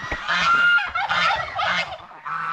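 Geese honk repeatedly and loudly up close on a farmyard, a cluster of overlapping nasal calls in quick succession.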